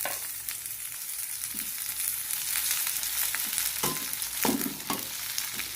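Spring onion and tomato being stir-fried in a pan, a continuous close sizzle with intermittent scraping clatters from a stirring utensil.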